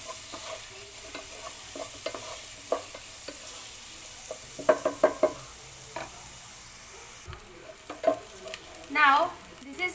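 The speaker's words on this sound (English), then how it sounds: "just saute the onion until it gets translucent or" Chopped onion sautéing in a pan for Goan sorpotel, a soft, quiet sizzle with occasional stirring scrapes and a few louder clinks of a utensil against the pan.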